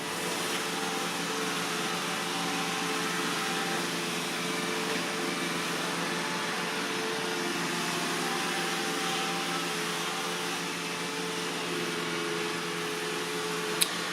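An iRobot i7+ robot vacuum runs over thick plush carpet, giving a faint, even motor whir that continues steadily throughout, with one brief click near the end.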